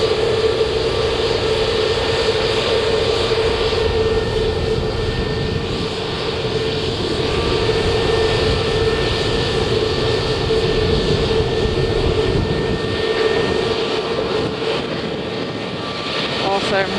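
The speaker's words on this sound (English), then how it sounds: "this is a Scandinavian Airbus A320neo, which is going to Copenhagen" A Scandinavian Airbus A320neo jet at Manchester Airport gives a loud, continuous engine roar and whine throughout, steady and close.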